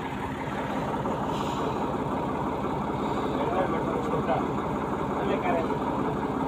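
A tractor engine runs at a steady idle on a farm, a continuous low mechanical chug close by with a faint voice nearby.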